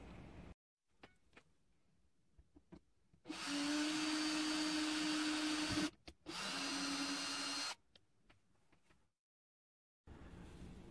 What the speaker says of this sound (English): it's a 3mm drill bit for a 3mm hole for the signal